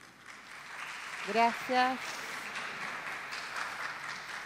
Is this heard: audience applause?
yes